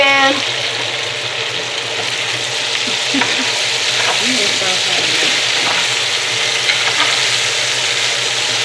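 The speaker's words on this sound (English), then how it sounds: "And we're sizzling." Potato chunks fry in a whole stick of melted butter in a pan, giving a steady, close sizzle and crackle throughout with occasional stirring scrapes, no talking over it.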